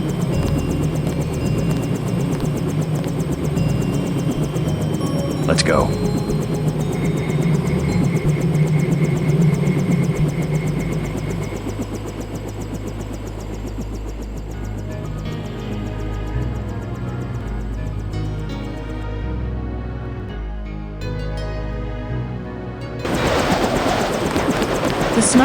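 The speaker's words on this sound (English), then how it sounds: "The snipers heard your helicopter and took off." A helicopter in Deus Ex drones as a loud, steady rotor-and-engine roar that fills most of the stretch, dips somewhat in the middle and surges again near the end, with a brief spoken line over it.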